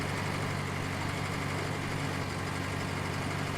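A tractor engine in Farming Simulator 19, pulling a disc harrow across a field, gives a steady, continuous low diesel drone at constant speed with no talk over it.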